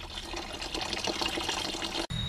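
Water is poured and splashed in a container while paddy seed is washed and rinsed by hand, a soft, continuous trickling gush that stops abruptly near the end, followed by a brief low rumble.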